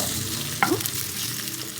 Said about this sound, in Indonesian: Kita goreng sama-sama dengan ikan asinnya